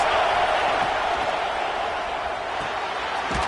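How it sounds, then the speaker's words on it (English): A loud, steady roar from a college football stadium crowd during a fourth-down play in a Michigan vs South Carolina game, a dense, continuous wash of noise throughout. "this crowd is making it miserable on this offense"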